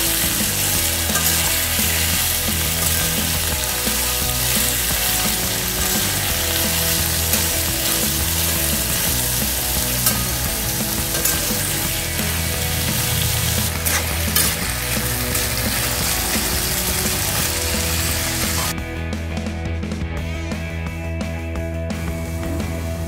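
Potatoes fry in a pan for a simple potato fry, giving a loud, continuous, close sizzle that stays dense throughout and thins slightly near the end.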